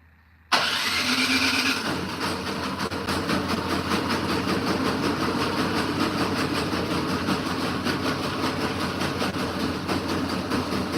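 A snow blower's small gasoline engine cranks and fires up after a brief quiet moment, then settles into a loud, steady, rough idle that runs continuously and close by.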